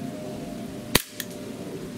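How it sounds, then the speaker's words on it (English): One sharp, snappy shot from a full-metal Sig Sauer P229 6mm blowback airsoft pistol, fired close by over a quiet background, its crisp crack followed by a brief metallic slide clack. "let's just shoot five over the crony and see how we do"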